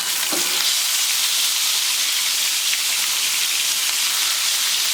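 Sliced onions sizzle in a pan for an onion curry with garlic-ginger paste, a steady, close, loud frying hiss with a soft stir near the start, no talking.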